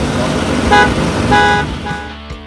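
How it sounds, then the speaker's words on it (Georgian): A car horn honks three times in quick succession over a steady engine rumble, close and loud, at a BMW festival. "სამჯერ დაასიგნალე და წავედი"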